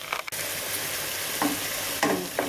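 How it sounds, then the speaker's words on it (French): Moroccan-style meatball mixture being stirred in a pan, a soft steady sizzle broken by a few brief scraping strokes of the utensil, fairly quiet with no talk. "je mélange bien tout ça"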